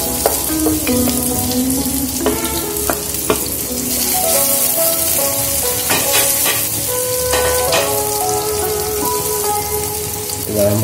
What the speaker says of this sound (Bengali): তেল ফুট হয়ে গেছে, আমি পেঁয়াজ কুচি দিয়ে দেবো, সাথে রসুন কুচি দিয়ে দিচ্ছি।